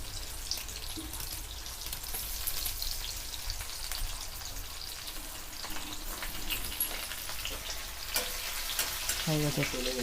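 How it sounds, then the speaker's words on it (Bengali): Onion frying in hot spice tempering for a Bengali shimul fish jhal curry: a steady, dense sizzle and crackle running throughout, with a few scraping stirs near the end. "পেঁয়াজটা আমরা হালকা করে লাল করে ভেজে নেব"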